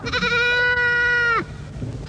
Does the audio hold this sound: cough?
no